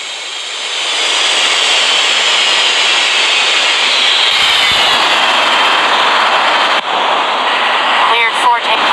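An Aeroflot jet airliner rolls for takeoff on runway 05, its engines a loud, sustained broadband roar that swells in the first second and holds steady, with a brief radio-like voice near the end.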